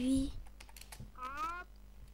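Quiet clicking of a computer keyboard while a chat message is typed in the online game Habbo, heard faintly under children talking.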